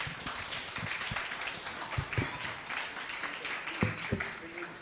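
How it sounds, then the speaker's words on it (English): A church audience at a Sunday panel event gives a round of applause, a steady dense patter of many hands with a few sharper individual claps standing out. "Please give them another round of applause."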